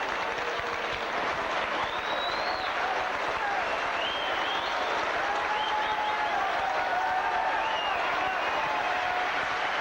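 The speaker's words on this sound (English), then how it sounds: "David Tanner getting a rapturous applause as he comes over here to the dugout" Rugby league crowd at St Helens versus Sheffield gives warm, sustained applause as substituted player David Tanner walks to the dugout, a dense continuous roar of clapping from the stands, with faint voices and whistles rising through it.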